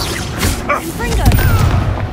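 A Confringo spell blast in Hogwarts Legacy booms out, a loud explosive burst with crackling fiery debris and layered game effects, a voice shouting briefly over it.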